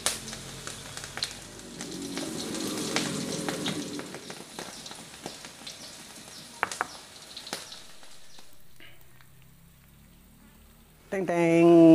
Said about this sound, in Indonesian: kita goreng tak lama, sekejap je